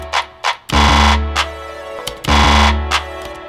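A loud R&B-style electronic beat in which sharp hand clap samples land over a heavy, sustained bass, with brief crisp accents leading in.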